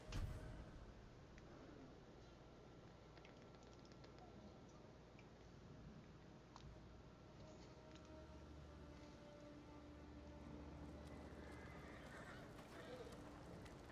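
A horse whinnies amid video game sounds from Ghost of Tsushima and background noise, with occasional hoof clops and a voice speaking.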